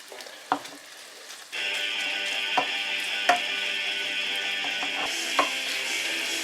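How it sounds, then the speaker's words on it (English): King prawns fry in a pan with the excess water cooked off for egg noodles with Thai pesto. A loud, steady sizzle starts abruptly and continues, broken by occasional clicks and taps of a utensil against the pan. "The prawns are actually frying and not steaming."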